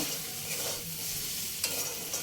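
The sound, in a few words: stirring fried semolina into vegetables in a pan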